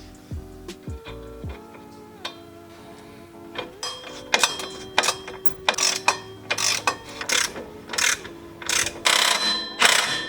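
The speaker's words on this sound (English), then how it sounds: "Tighten up the nuts to the white pipe." Ratchet clicks in short bursts while the mid-pipe nuts of a Tomei exhaust are tightened on an Infiniti G35 Coupe, close and fairly loud, with mechanical tapping and clatter early before repeated ratcheting strokes.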